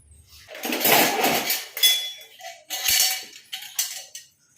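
Metal utensils scrubbed with cleaning powder, giving bursts of gritty rubbing and clattering metal clinks, loud and close with short pauses.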